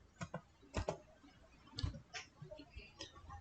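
Several short mouse clicks on a computer, sharp and close, spaced irregularly over faint room noise.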